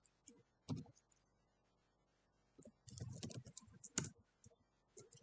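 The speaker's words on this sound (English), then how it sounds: "just click on the terminal and type sudo apt" A computer keyboard clicks in short, faint bursts of keystrokes as a terminal command is typed, with pauses between the clusters of taps and no speech.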